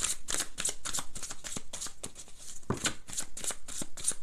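Tarot cards are shuffled by hand for a love reading, giving a rapid run of crisp riffling slaps and flutters that repeat steadily and close-up throughout, with no voice over them.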